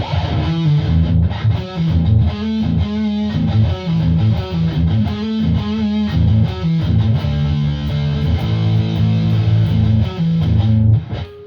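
Electric guitar played through a Roland GR-55 guitar synthesizer on a preset setting gives a thick, heavily distorted tone, with sustained chords and riffs that stay loud and steady and have no talking over them.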